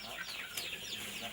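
Chickens cluck softly in a flock in a brief burst, a busy layered chatter of short calls at moderate distance, with a faint voice mixed in.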